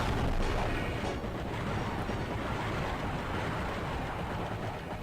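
Explosions in the side-scrolling action game Abuse, a continuous dense rumble of blasts and booming detonations rolling on at a steady level with no distinct gaps.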